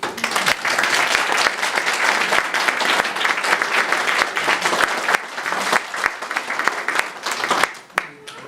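Wedding guests applauding a couple, a lively continuous round of clapping with a few sharp individual claps standing out, fading slightly at the end.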